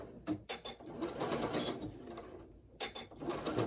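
A sewing machine stitches the crotch seam of pajama pants in short rhythmic bursts of whirring and clicking, close by, pausing briefly before starting again, no talk.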